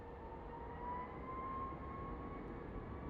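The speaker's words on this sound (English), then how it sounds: "And over our next departure looks like is a United Airlines flight." A United Airlines jet departs Phoenix Sky Harbor airport at night, heard as a steady, moderately distant engine roar with a faint whine held throughout.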